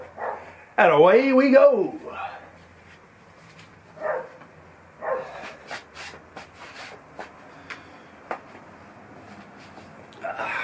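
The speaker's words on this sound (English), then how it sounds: "Dogs are barking," A dog barks loudly and close for a couple of seconds with a yelping, wavering tone, followed by scattered softer barks and knocks as a person talks.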